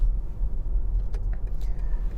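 A BMW iX2 electric car accelerates from about 40 km/h in city traffic, heard from inside the cabin as a steady low road-and-motor rumble with faint light clicks over it and no talking.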